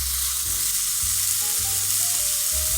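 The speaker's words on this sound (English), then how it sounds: "In a pan over medium heat, you want to add your pound of ground beef." Ground beef frying in a pan over medium heat, a steady loud sizzle with a low humming tone underneath, close and continuous with no talking.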